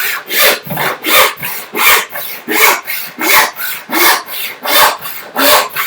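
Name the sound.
cutting wood with a hand panel saw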